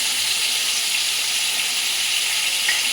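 Water used to rinse out the spice bowl pours into a pan of frying paneer masala, setting off a loud, steady, even hiss of sizzling that holds without a break.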